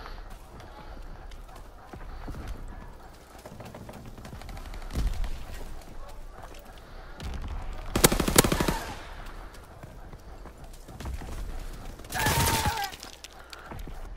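Gunfire in Call of Duty WWII, scattered bursts and sharp rattling shots, two louder bursts of automatic fire standing out over background battle noise and a player's occasional voice.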